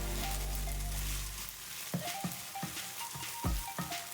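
Scrambled eggs being chopped with a utensil in a hot pan for a vegan Asian-inspired stir fry, a low steady sizzle broken by a series of sharp scraping taps, fairly quiet and close.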